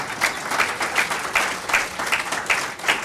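An audience at a Spiritist lecture applauds, a steady, fairly loud wash of clapping with rhythmic pulses at roughly even intervals and little speech.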